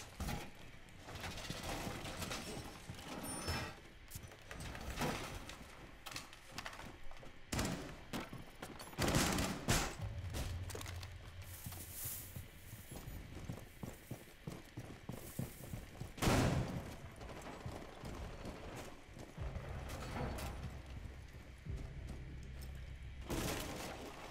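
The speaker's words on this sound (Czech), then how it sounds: "tu se střílí" Gunfire in the tactical shooter game Rainbow Six Siege, scattered bursts and single shots cracking at irregular intervals, some sharp and close, others more distant, alongside other in-game clatter.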